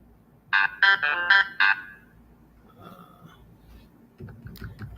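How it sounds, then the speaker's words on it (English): A mobile phone ringtone chirps in a quick burst of five bright electronic pulses, fairly close, then fades into faint room noise with soft clatter. "My phone is going nuts."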